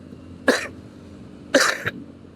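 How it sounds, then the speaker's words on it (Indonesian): Two short, sharp coughs about a second apart, close and fairly loud against a quiet room background, the second with a small trailing catch. "batuk kan gue kan"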